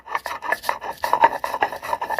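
Poppy seeds are ground by hand into a coarse paste, producing a steady run of rasping back-and-forth strokes a few times a second, close and moderately loud with no talking.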